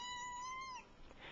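A house cat gives a single drawn-out meow, close and clear, with a slight falling tail and a soft rustle afterward.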